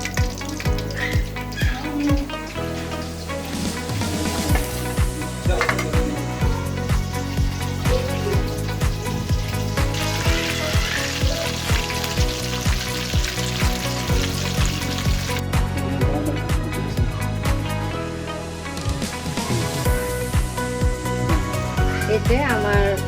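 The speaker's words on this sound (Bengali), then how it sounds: "মাছ ভাজা।" Fish frying in hot oil gives a continuous dense sizzle with clattering stirs and utensil knocks, and speech joins in over the frying at times.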